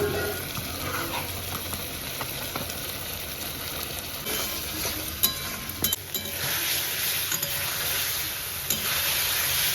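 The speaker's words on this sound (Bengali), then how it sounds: "এবার আমি ভালো করে কষিয়ে নেবো" Spices sizzling steadily in hot oil with salt and turmeric as the masala is fried down, a dense continuous hiss with a few faint clinks of stirring, close and moderately loud, no talking.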